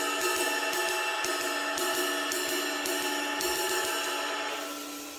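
Repeated strikes on the bow of a Turkish cymbal come at a steady pace, about one every half second, over a dense, washy shimmer that sustains and then slowly fades toward the end. The cymbal is close and heard alone.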